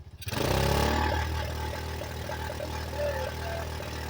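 A 1985 Yamaha outboard motor running on choke catches and settles into a loud, steady, slightly uneven idle close by, with a brief rise in revs near the end.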